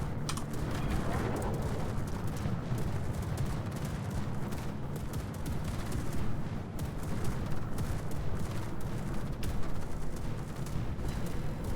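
Battleship gunfire in the naval game World of Warships, from the USS Arizona's turrets: a dense, rumbling barrage of booms and distant impacts that runs continuously for about twelve seconds under a low roar, with no voices.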